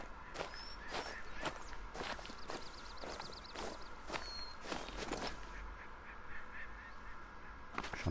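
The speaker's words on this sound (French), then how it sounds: "J'entends des coin-coin." Ducks quack repeatedly in a short rhythmic series in theHunter, nearby and fairly clear, alongside crunching footsteps and ambient outdoor game sounds, with no talking.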